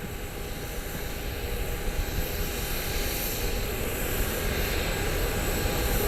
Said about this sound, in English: coming in on the left side from St. Louis, it's flight 2679, the Colleen Barrett Canyon Blue Retro, 737 MAX 8